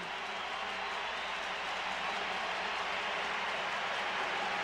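A sellout baseball crowd of more than 52,000 roars steadily in a domed stadium as the Toronto Blue Jays take the field. The dense, far-off wash of cheering holds at one level throughout, with no single voice standing out.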